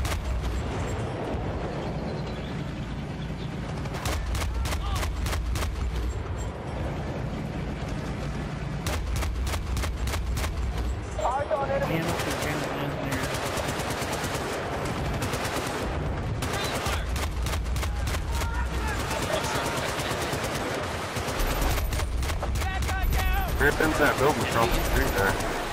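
Gunfire in Battlefield: Bad Company 2 multiplayer on PS3, with rapid bursts of shots and heavy booms repeating throughout over a constant din of battle, loud and close.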